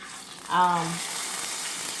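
Teriyaki lamb chops, marinated a day with pineapple juice, garlic and parsley, sear in overly hot olive oil with a steady close hiss and a short tonal squeal as they hit the pan.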